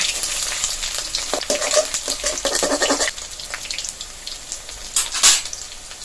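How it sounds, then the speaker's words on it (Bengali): Jute leaf fritters (bora) fry in hot oil and are turned over, making a loud, dense sizzle with scraping and clinks that eases partway through, then flares briefly near the end. "বড়াগুলো এক পাশ ভাজা হয়ে গেছে, এবার উল্টে দিয়ে আরেক পাশ ভেজে নেব।"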